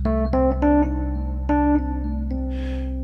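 A sustained blues piano chord with C in the bass played several times, each restrike ringing out with the low bass note underneath, close and moderately loud.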